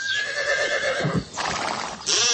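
A horse whinnies loudly and close, a shrill wavering neigh that breaks into a fluttering snort, with no talking.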